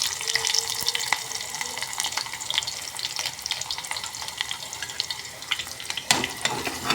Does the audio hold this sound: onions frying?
yes